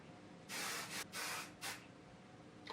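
Three quick hissing sprays from a perfume pump bottle, the first two longer and close together, the last a short burst, with quiet between.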